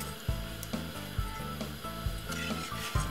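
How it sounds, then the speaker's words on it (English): Cornmeal porridge being whisked in a pot on the stove, a steady run of scraping, rubbing strokes with soft knocks against the pot, close and moderately quiet, with no voices. "Give it a little whisk"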